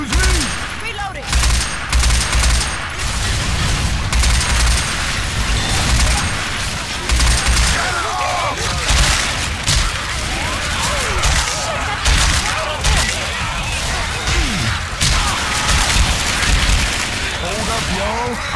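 Relentless gunfire in the video game Left 4 Dead 2, loud rapid bursts and booming shots overlapping almost nonstop, with players shouting over the shooting.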